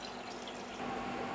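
Water running steadily into a wide cooking pot, about two litres for millet noodles in a home kitchen, a continuous close splashing stream with no talk.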